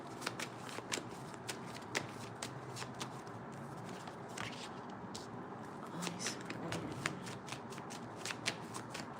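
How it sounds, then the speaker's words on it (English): A deck of tarot cards is shuffled and cards are drawn, giving a steady papery riffle with repeated sharp flicks and snaps close by. "Let me pull one more from this deck."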